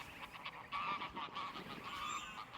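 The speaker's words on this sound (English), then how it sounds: "so here we have the greylag geese." A group of greylag geese honks nearby in short, overlapping nasal calls, fairly faint against outdoor background with no talk.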